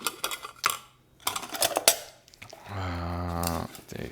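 Metal camping cooking pans handled as part of motorcycle winter camping gear: a few sharp clinks and clatters, then a short ringing scrape, close by and fairly loud, with no talking.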